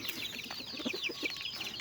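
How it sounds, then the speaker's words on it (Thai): A native Thai fighting-breed chicken clucks in a quick run of short close calls, fairly quiet over light background noise. "ไก่พื้นเมืองสายชน"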